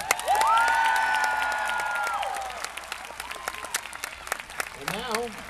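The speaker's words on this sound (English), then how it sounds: "And now, you're... applause for Jancy and Knox" A crowd at an RCMP Sunset Ceremony claps and cheers with whoops, loud at first and then thinning into scattered claps, with a whistle-like tone early and a short vocal sound near the end.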